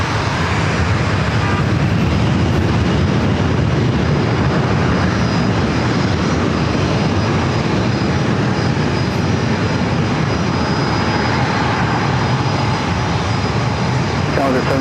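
An American Airlines A321 jet airliner at San Diego airport sets up a loud, steady broadband roar that lasts throughout, with voices murmuring underneath.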